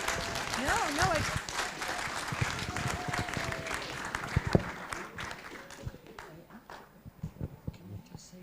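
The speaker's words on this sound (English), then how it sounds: "Keep clapping, keep clapping, keep clapping, keep clapping." Applause from an audience at a pro-life and family side event to the ICPD25 intergovernmental conference, a broad wash of clapping that fades toward the end under a speaking voice.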